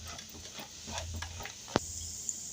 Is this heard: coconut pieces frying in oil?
yes